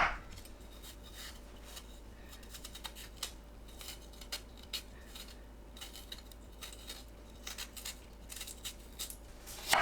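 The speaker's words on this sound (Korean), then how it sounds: "단감은 심지와 껍질을 손질합니다" Soft knife scraping and trimming as the core and peel are cut from a sweet persimmon, quiet repeated cuts and rubs in a kitchen with low background hiss, a louder clatter at the very end.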